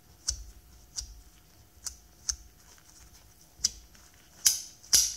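A metal haptic coin made of two shells around a thrust roller bearing, held with a loose grip, gives sharp, loud snapping clicks at a steady rhythm of about one per second, growing stronger at the end, with no talking.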